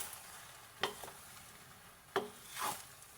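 Pancit noodles cook in a pan with a faint sizzle, as a utensil scrapes and stirs in two or three brief, sharp strokes, close and quiet.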